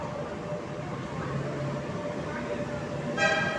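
An MRT-3 train rumbles into Guadalupe station in Manila, then a short horn toot sounds near the end, with faint crowd murmur in the background.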